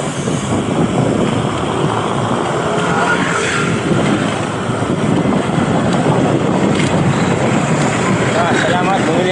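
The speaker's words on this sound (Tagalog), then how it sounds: "Uy, lakas ng hangin." Strong wind roars over the microphone during a ride on a Java Siluro 3 bicycle, a steady broadband rush with occasional gusts, with speech heard intermittently underneath.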